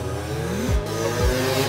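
A Tomasin T500 500cc two-stroke motocross engine revs loud and close, its buzzing note climbing and then dropping in two sharp blips with no talk over it.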